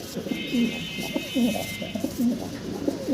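Pigeons of a fancy, unusual colour cooing close by in repeated soft rolling phrases about every half second, over a faint background hum.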